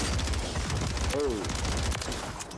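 Gunfire from the Warzone battle royale game, with dense bursts of shots crackling throughout amid other in-game noise, close and loud.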